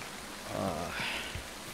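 Steady rain falls in Splinter Cell: Chaos Theory, a soft even hiss of drops on surfaces that runs throughout, fairly quiet, with a few low thumps and faint movement sounds beneath it.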